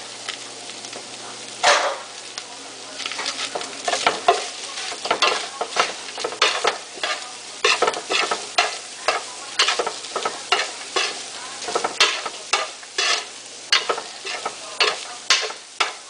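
Carrots and chicken filling for lumpia fry in a pan, with a steady low sizzle under repeated close scraping and tossing strokes of a utensil that come in an irregular rhythm.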